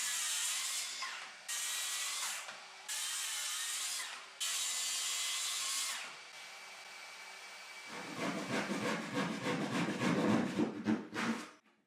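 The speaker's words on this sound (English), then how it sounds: "I'm ready to cut the side panels" A power tool cuts MDF cabinet side panels in several long, steady bursts separated by brief pauses, then switches to a rougher, rhythmic rasping run near the end. It is close and fairly loud, with no talking.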